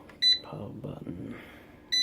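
A Culinary Edge digital air fryer gives a short, high electronic beep as its power button is pressed, then a second identical beep about two seconds later, with a person talking quietly between them.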